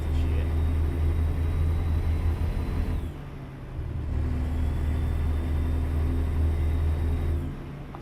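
Heavy truck engine in American Truck Simulator droning steadily on a winding road, a loud low rumble that briefly dips around the midpoint before returning to a constant hum.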